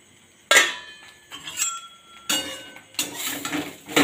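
A lid comes off a cooking pot in a home kitchen with a few sharp metallic clinks and rattles, then brief settling clatter, close and clear with no talk.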